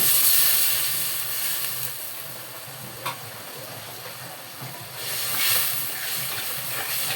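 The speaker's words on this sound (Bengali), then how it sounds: "পানি দিয়ে দিলাম।" Water poured into a hot pan of chicken and potato curry sends up a steady, broadband hiss of steam, loud at first, easing slightly, then swelling again, with no voices.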